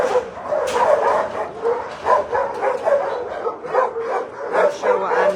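Several shelter dogs bark and yip excitedly at a man arriving, a steady rapid overlapping chorus of barks with some whimpering, fairly close and loud throughout.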